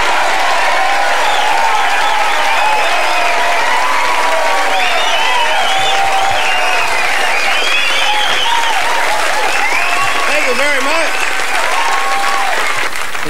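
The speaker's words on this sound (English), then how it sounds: "how about a nice round of applause and a nice welcome for a gentleman" A packed stand-up comedy crowd applauds to welcome a comedian, with loud, dense, sustained clapping and some crowd voices mixed in throughout.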